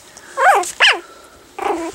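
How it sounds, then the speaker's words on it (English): A three-week-old puppy lets out two sharp, high barks in quick succession, then a shorter yip after a brief pause, close and loud. "You're barking."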